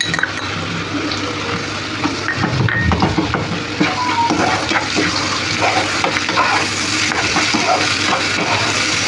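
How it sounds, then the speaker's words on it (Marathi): Onion-coconut paste frying with bottle gourd in a pan, giving a dense, loud, continuous sizzle and bubbling with scattered scrapes and clatter from stirring. "आता हे कांदा खोबऱ्याचं वाटण हे टाकते मी ह्याच्यामध्ये"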